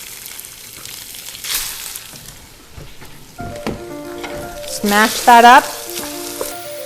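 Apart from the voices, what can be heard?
ground beef frying and sizzling in a pan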